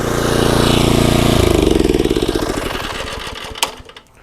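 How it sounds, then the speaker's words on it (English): A California Trimmer reel mower runs loud and close with its engine going and reel spinning, then gradually winds down, ending with a small click. "now when I pull the throttle, it just spins"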